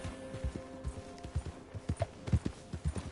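Horse hooves clip-clop at a steady walking rhythm in Red Dead Redemption II, each hoofbeat a distinct, moderately close knock on the ground, with faint ambient background and no talk.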